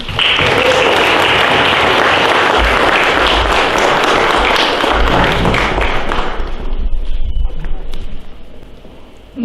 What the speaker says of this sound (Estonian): Teeme suure aplausi, Eliis!